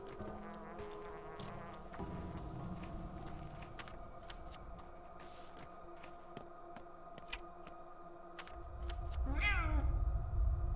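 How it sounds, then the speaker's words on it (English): A cat meows in a video game, the call rising over a dense bed of ambient game sound with buzzing insect-like tones, appearing near the end and standing out briefly against the steady backdrop. "I heard a cat."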